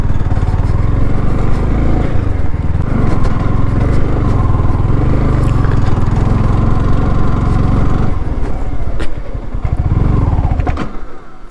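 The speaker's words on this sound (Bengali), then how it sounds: "বাইক স্টার্ট বন্ধ হয়ে গেল।" A Yamaha R1 motorcycle engine runs loud and close while being ridden off-road up a steep, rough road, its heavy rumble steady throughout, easing briefly near the end before picking up again.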